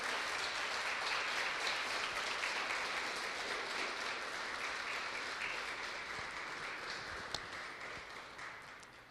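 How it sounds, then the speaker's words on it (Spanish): Sustained applause from a church congregation, steady clapping filling the whole stretch and tapering slightly toward the end. "Dale un fuerte aplauso a Jesús."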